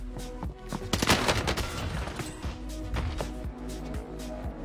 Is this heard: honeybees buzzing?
no